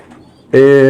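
Domestic pigeons from French-company stock, one of them a black hen, give a loud, close coo that begins halfway through after a quieter stretch of low background sound.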